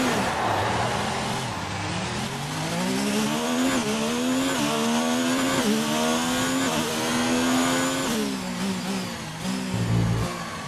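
A Formula 1 race car in a Melbourne Grand Prix video game revs hard through repeated rising gear pulls and downshifts. Its tires squeal briefly, and the whining engine stays loud and up front throughout.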